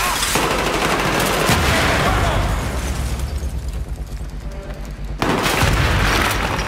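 Dense, continuous bursts of gunfire and explosive booms in Battlefield 3 roar loudly throughout, easing slightly in the middle before surging again.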